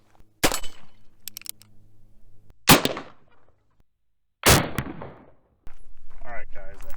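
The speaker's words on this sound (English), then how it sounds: "I'm going to shoot a little bit closer to the camera there so you can see just the gun" Three sharp, loud gunshots from a Heritage Rough Rider revolver, fired one at a time with pauses between and each trailing off with a short ring. A voice follows at the end.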